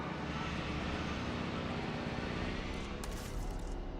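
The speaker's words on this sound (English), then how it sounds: "how is that helicopter even able to carry that?" A helicopter in the video game Jurassic World Evolution 3 hauls a huge dinosaur, its rotor and engine making a steady, loud, dense drone throughout, with no talk over it.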